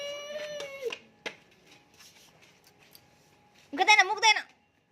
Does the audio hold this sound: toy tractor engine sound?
no